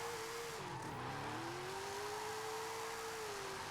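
A Ford drifting in the racing game Forza Horizon 5, with a steady engine drone and sustained tire squeal that dips in pitch and then rises again, loud and continuous with no talking.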